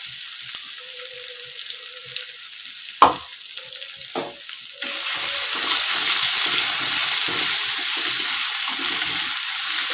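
Crushed ginger and green chili frying in a pan for a potato and eggplant curry: a quiet start with a couple of sharp clatters, then a loud, steady sizzle that swells and holds close up.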